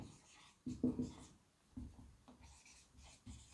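Handwriting on paper during a physics lesson, soft scratchy pen strokes in several short bursts, faint and close, with light breathing in the background.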